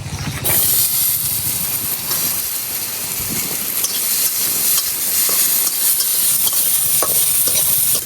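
Onion and garlic dry-fry in a pan without oil, a loud hissing sizzle with constant stirring scrapes and small clicks close by.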